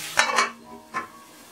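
A lid set over a frying pan of brinjal on a low flame: two quick metallic clanks close together, then a softer knock a moment later, with no voice.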